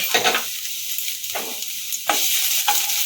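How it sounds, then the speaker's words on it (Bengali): Chopped garlic dropped into hot oil for chicken arrabbiata pasta, loud close sizzling with bursts of spatter and stirring swells recurring every second or so. "তেলটা গরম হয়ে গেছে কুচানো রসুনগুলো এখন তেলের মধ্যে দিয়ে দিলাম"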